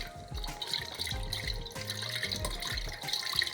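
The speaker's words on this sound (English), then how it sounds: "I put my chicken broth with my stove already turned on" Chicken broth pours into a pot on a stove that is already on, a continuous liquid splashing and gurgling close by that rises and falls, with no talk over it.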